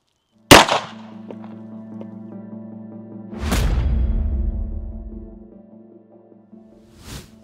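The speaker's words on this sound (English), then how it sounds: "we're gonna shoot 357 Magnum out of the Smith & Wesson" A .357 Magnum round fired from a Smith & Wesson revolver at a body armor plate: one sharp, loud crack with a ringing tail, followed by a rumbling impact and a fainter later pop.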